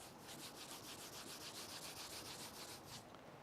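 A hand rubs back and forth over rough car paint carrying embedded contamination, giving a faint, steady, gritty scratching with a quick repeating rhythm, heard alone.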